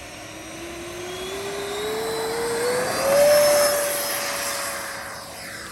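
A Freewing F-86 Sabre 80mm EDF radio-controlled jet takes off, its ducted fan whining loudly and rising steadily in pitch as it accelerates down the runway, a smooth continuous roar peaking mid-clip, then easing slightly as it climbs away.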